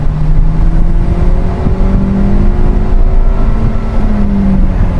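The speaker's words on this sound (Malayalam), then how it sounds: "നമുക്ക് ഇതിൻ്റെ റെഡ് ലൈനും കാര്യങ്ങളൊക്കെ ഒന്ന് ചെക്ക് ചെയ്യാം." A Hyundai Venue Knight Edition SX with a 1.2-litre naturally aspirated petrol engine revs hard toward its redline, a loud, steady drone whose pitch climbs gradually over several seconds, with no talk.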